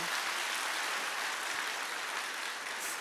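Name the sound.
applause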